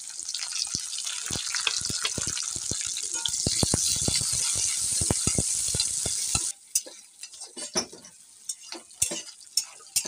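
Chopped onion and sliced green chili hit oil with browned garlic and fry in a loud, steady sizzle with stirring scrapes and clicks, the sizzle dropping sharply partway through, leaving quieter intermittent stirring.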